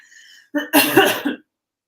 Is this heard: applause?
no